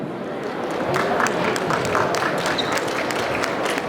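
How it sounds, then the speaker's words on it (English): An audience at a stage panel event applauds ahead of the next segment, a dense, steady wash of many hands clapping that holds at an even loudness throughout. "Once again, a round of applause, please, for the next segment"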